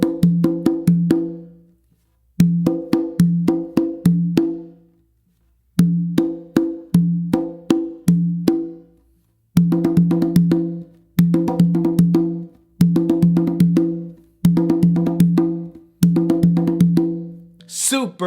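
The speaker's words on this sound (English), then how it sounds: "all I do is I go back to do an open with my dominant hand on my tumba," A hand drumming exercise on conga and tumba, played in short bursts of quick, crisp strokes and open tones that repeat in phrases separated by brief silences, close and clear with no talking.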